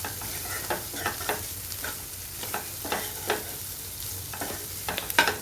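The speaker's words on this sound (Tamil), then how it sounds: "அந்த மிளகாத்தூளோட பச்சை வாசனெல்லாம் போகிற வரைக்கும் நல்லா கொஞ்சம் வதக்கலாம்" Cluster beans with chili powder sauté in a pan, a low steady sizzle broken by periodic scraping strokes of a spatula stirring the vegetables, close by and with no talk.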